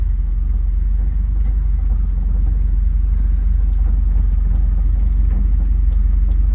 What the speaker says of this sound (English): Cars coming in front of me, cars coming behind me.